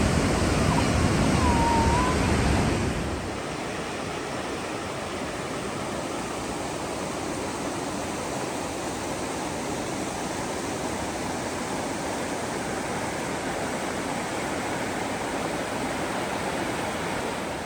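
Water from a waterfall pours steadily into a 30-foot pool, a loud continuous roar and hiss that stays close and constant, with a brief louder rush at the start.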